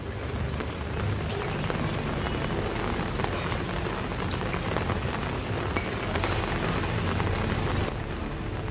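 Heavy monsoon downpour hammering surfaces in a steady, dense roar of rain, loud and continuous throughout with no voices.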